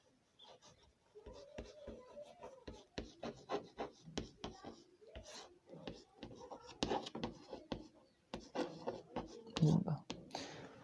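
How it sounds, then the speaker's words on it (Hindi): Pen or pencil scratching quickly across paper as a math measurement of 10 centimeters is written down; close, soft, scratchy strokes in a busy irregular rhythm, with occasional murmured speech mixed in. "यहाँ लिख लेता हूँ 10 सेंटीमीटर"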